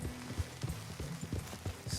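Horse hooves clip-clop in Red Dead Redemption 2, a steady irregular series of soft low thuds on dirt over a faint ambient bed, close and moderately loud with no speech.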